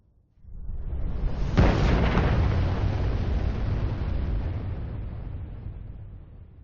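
A large explosion tearing through a city in the video game Celsius Strays, a single heavy boom with a sharp crack near the start, then a long rumbling roar that slowly fades.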